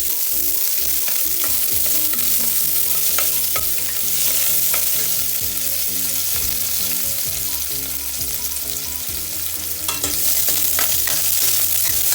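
Garlic and onion sautéing in a casserole for pata kare-kare, a loud continuous sizzle with repeated scraping stirs and clinks of a utensil against metal, close up and with no talking.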